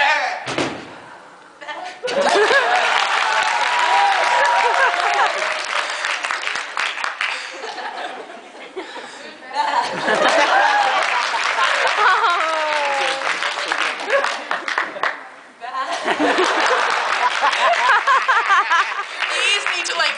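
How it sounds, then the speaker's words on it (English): An audience claps in three long, loud bursts of applause separated by brief lulls, with some chuckles and thumps mixed in and voices talking underneath. "can you guys like clap for me so I know to go back to them?"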